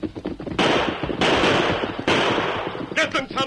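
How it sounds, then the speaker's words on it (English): Gunfire rings out in a radio western drama set on a trail, three long rattling bursts of shots with short gaps between them, loud and close, followed by a brief voice at the end. "Shoot the guns from their hands."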